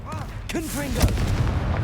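Confringo blasting spell from the video game Hogwarts Legacy, fired at a troll: a heavy explosive boom lands about midway, followed by rumbling debris, with sweeping magical whistles and a creature's growls before it.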